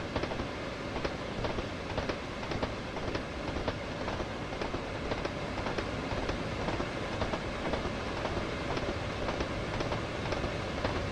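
A train gathering speed under power on the West Coast Main Line in Train Sim World 2, with steady rumbling rail noise and regular clickety-clack wheel beats over the joints throughout.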